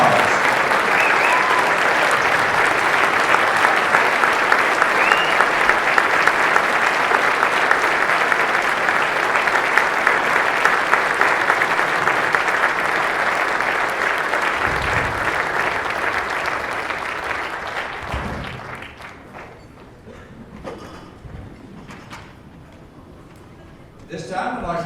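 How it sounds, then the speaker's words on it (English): A large dinner crowd honoring the 2016 Madison County Military Heritage inductees at a veterans' dinner gives loud, sustained applause for about eighteen seconds, then it thins out and fades to a few scattered claps. "Big round of applause."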